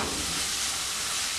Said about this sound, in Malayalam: ഇതൊന്ന് തുറന്ന് നോക്കി ഇളക്കി കൊടുക്കാം.